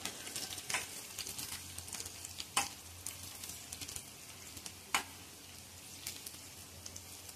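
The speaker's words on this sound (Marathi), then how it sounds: "आता यात थोडं चिमूटभर हिंग टाकूया आणि आपण परतून घेऊया." A pinch of asafoetida (hing) sautéing in hot oil with curry leaves, a quiet, steady sizzle broken by scattered crackling pops and stirring clicks.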